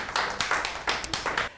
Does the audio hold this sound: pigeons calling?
no